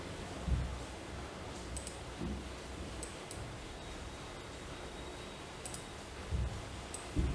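A few soft, quick computer mouse clicks scattered over several seconds, quiet and close, with faint background hiss between them.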